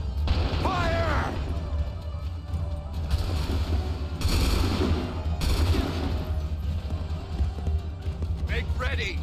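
Musket volleys in Assassin's Creed 3 crack out as several broad bursts of massed firing amid battle noise, with shouted voices over the top.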